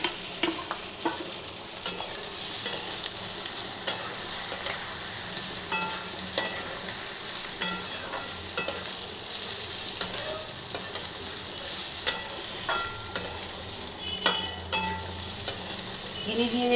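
Rice for a vegetarian pulao fries loudly in a pan, a dense sizzle punctuated by regular scraping knocks of a spoon stirring it, steady and close throughout.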